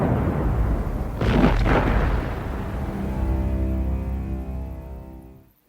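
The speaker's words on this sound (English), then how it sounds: "An explosion lights up the cabin window." An explosion in a Star Trek Generations script read, one loud boom with a burst of energy partway through, followed by a long low rumble that fades out at the end, with no talking.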